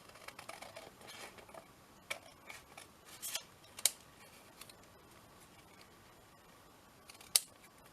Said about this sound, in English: And then chop this out, just cut it out